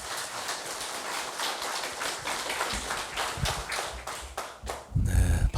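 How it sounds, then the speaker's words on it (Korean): Crowd applause at an interfaith worship service, a broad sustained clapping that swells louder near the end with some low thumps. "박수 한번 다시 좀 크게 쳐주십시오"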